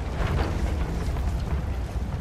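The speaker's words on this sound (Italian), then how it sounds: "Quel cannone sta creando un sacco di problemi ai nostri." Heavy, rumbling cannon fire in Battlefield 1, a continuous low booming roar of explosions that stays loud and dense throughout without any clear gaps.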